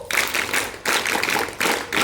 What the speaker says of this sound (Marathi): मॅडमांसाठी पुन्हा एकदा जोरदार टाळ्या.